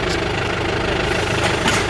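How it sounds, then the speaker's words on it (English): Farm tractor engine running steadily at a low, even idle, close by and continuous, pulling a transplanter while planting blackberries, with no talk over it. "this is the tractor"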